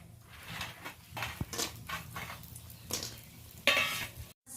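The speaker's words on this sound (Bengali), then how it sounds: "মাছগুলো এইভাবে ভেজে নিয়েছি ব্রাউন কালার করে, পুরো ভেজে নেব।" Fish pieces frying to brown in a pan for a Bengali curry, a quiet crackle with bursts of louder sizzle and occasional clinks of a spatula against the pan.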